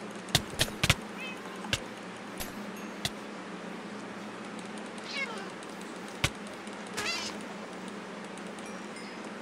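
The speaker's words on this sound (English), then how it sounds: "Oh, there's the cat." A video-game cat meows repeatedly, with several sharp, fairly close cries spread unevenly through the stretch over a steady background hum of game sound, and no speech.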